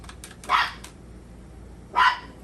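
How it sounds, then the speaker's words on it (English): A small dog indoors in a kitchen gives two sharp, close barks about a second and a half apart, with a few faint yips before the first. "and that's my dog."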